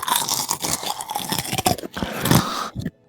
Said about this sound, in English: this is the crunching of the bugle